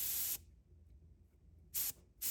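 Airbrush spraying Tamiya gloss paint for a Ducati Superleggera V4 scale model kit, three short bursts of close, loud hissing spray with quiet pauses between them.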